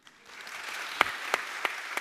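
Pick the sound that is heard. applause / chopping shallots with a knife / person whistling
applause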